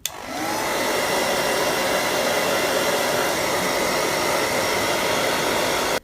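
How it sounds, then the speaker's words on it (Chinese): A hair dryer blows on a phone's earpiece, speaker and microphone openings after brushing them clean, switching on sharply and holding a loud, steady whooshing roar for several seconds before cutting off. "然后我们用吹风机给它吹干就可以了。"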